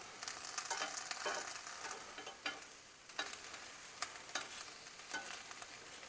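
Roasting salsa vegetables are stirred and flipped in a hot pan, giving a close, steady sizzle broken by several sharp scraping and tossing bursts at irregular intervals.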